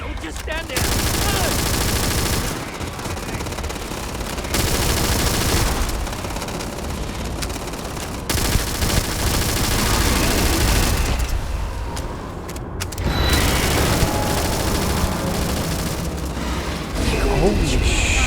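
Heavy, sustained gunfire in the game Starfield. Dense bursts of shooting run through most of the stretch and break off in a few short pauses, with people talking over the shots.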